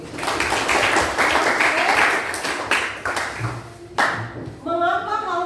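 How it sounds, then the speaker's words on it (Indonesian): Classroom clapping as students applaud in a lesson about eggs floating and sinking in water, a dense burst of many hands close by, easing after a few seconds, with voices and chatter mixed in. "Tepuk tangan dulu"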